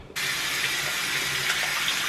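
Tap water runs steadily into a sink while hands and face are washed, a close, continuous hiss that starts abruptly and carries on with no voices.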